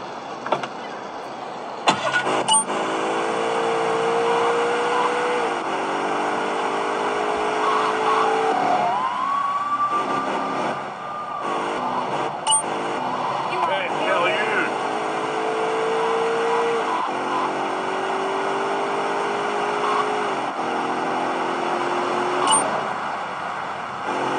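A car engine in a GTA video game drones steadily, its pitch climbing again and again as it revs through the gears, with a brief dip and recovery midway and faint game sounds around it.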